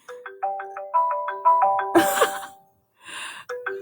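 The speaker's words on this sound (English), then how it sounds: "My phone's ringing." Mobile phone ringing with a repeated melodic chime, bright tonal notes in quick rhythmic bursts, interrupted midway by a brief noisy burst before the ringtone resumes.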